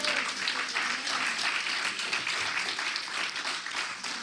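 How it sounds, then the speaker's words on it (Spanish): Church congregation applauding together, a steady, dense wash of clapping that holds at even loudness throughout without pause. "Los que se gozan le dan un aplauso al Señor."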